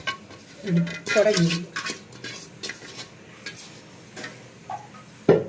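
Chopped jackfruit tipped into a pressure cooker, heard as a few clattering scrapes and taps of a utensil against the metal pot, fairly soft and scattered, with no talk.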